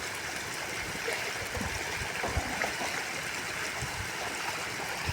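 Floodwater after heavy rain flows steadily in a continuous broad rushing wash, moderately distant and even in level, with faint gurgles and splashes over it and no talk.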